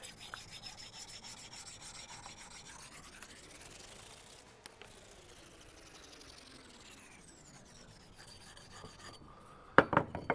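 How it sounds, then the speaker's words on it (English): Axe blade drawn across a 1200 grit sharpening stone to remove a burr, a soft, steady scraping rub that sweeps along continuously and faintly, ending in a few louder clicks and knocks. "let's take the burr off with the 1200 grit."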